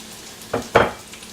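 Chopped celery, peppers, tomatoes and corn dropped into a pan of browned frying onions for chili, two quick splashing bursts over a steady background sizzle with no talk.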